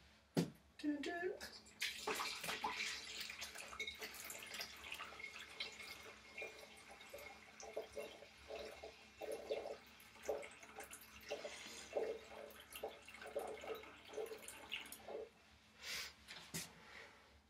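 A gallon of homebrew beer is poured, giving a steady trickling, splashing liquid stream with drips and small knocks, fairly faint and continuous.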